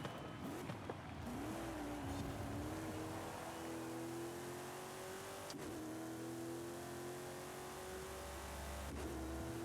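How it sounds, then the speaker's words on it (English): A heavy off-road truck engine in Forza Horizon 5 revs and holds a rising drone, with brief gear-shift dips and a couple of sharp transient knocks, loud and close, no talking. "This car does sound good."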